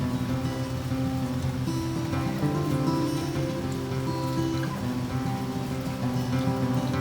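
Steady rain patters on a surface, a dense continuous hiss with layered drips, fairly close and unbroken, no voices.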